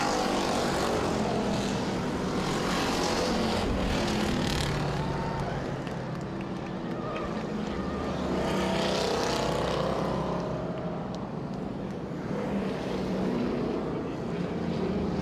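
Pure stock race cars circling Owosso Speedway, a continuous engine roar swelling and fading as the pack passes, loud and steady throughout.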